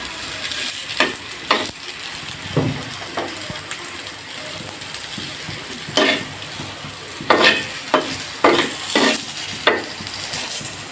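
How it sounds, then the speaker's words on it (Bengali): A village-style paratha fries in oil in a pan, giving a steady sizzle broken by a series of sharp scraping and clinking strokes from a spatula, up close, with no talking. "একইভাবে আরেকটা পরোটা ভেজে নেব।"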